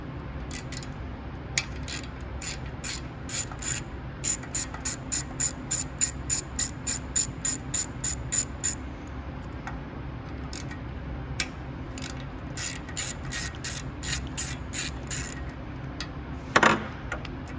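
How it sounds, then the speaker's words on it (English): Two 7mm bolts being removed from the AVR of a FIRMAN generator, bursts of rapid ratchet clicking repeated several times, close and clear over a steady background hum. "all you got to do to swap them out is you'll want to take out these two 7mm bolts right here"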